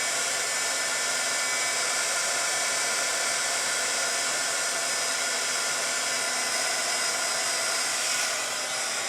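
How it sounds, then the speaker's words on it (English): Heat gun drying inked paper flowers, a loud, steady, close blowing whoosh with a high airy hiss that holds constant throughout, alone with no talk. "I like using the heat gun because that really keeps the nice watercolor effect"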